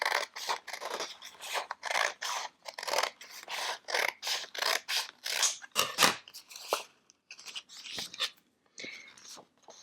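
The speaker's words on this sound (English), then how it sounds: "I'm going to use my scissors and I'm going to cut out the strips along the paper like so." Scissors cut strips of paper in a run of rapid, crisp snipping and rasping strokes, close and clear, with brief pauses between bursts and no talk.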